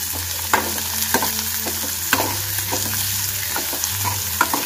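Mustard seeds and onion frying in oil for a tempering, a loud, close, steady sizzle with regular spatula scrapes and taps against the pan roughly every half second to a second.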